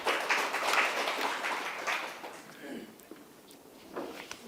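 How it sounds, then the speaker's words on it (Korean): A conference audience applauds a speaker in a dense patter of many hands clapping, fairly soft and distant, gradually thinning out toward the end. "큰 박수 한 번 더 부탁드리겠습니다"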